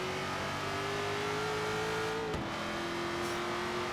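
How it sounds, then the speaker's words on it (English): Ford Falcon GT F 351 V8 in Forza Horizon 3 holds a steady, deep grumbling idle-to-rev drone, its pitch climbing slowly before a sharp shift-like break, then settling into a steady engine tone. "this is one of my favourite sorts of sounds from a car. Big, grumbly V8."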